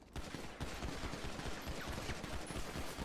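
Rapid gunfire in a GTA roleplay video game: dense, continuous bursts of shots cracking close and loud throughout, with no voices.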